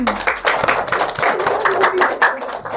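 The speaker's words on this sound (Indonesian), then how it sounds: "Oke, tepuk tangan." A small group in a classroom teaching-practice session claps in a short, uneven patter of distinct hand slaps, fairly close and moderately loud, with no talk over it.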